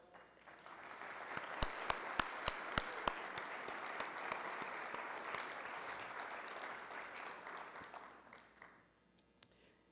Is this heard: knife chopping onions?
no